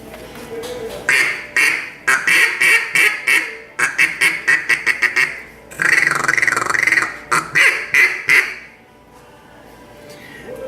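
A homemade Rogue Ambitions duck call blown in loud, close bursts of rapid quacks, series of sharp rhythmic calls with brief gaps between runs, no talking.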